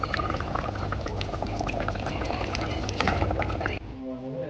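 A beef curry simmers uncovered to reduce, thick bubbling and popping close by for several seconds before the sound drops away near the end.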